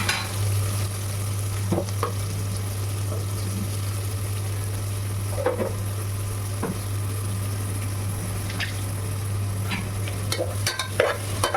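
Onions with salt sautéing in hot oil in a pan for a vegetarian biryani; a steady, even sizzle close up throughout, with occasional stirring scrapes and clicks, and a constant low hum underneath.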